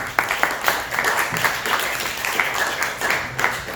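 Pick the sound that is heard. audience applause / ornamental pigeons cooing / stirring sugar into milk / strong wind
audience applause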